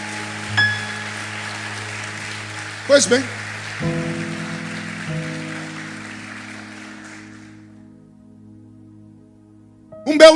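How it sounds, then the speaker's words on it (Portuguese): Church congregation applause for a preacher fades gradually beneath sustained organ-like music tones, then dies away before a voice resumes speaking near the end. "uma salva de palmas para o nosso irmão João Batista"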